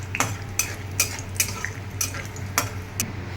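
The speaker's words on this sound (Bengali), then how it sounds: "1 মুঠ মতো আমি এখানে কাঁচা বাদাম দিয়ে দিলাম। এটাকে বেশ লাল করে আমি সুন্দর করে ভেজে নেব।" Raw peanuts, a handful, frying in hot oil for a pointed-gourd biryani, with a spoon or spatula clinking against the pan in regular strokes about every half second over a steady low hum.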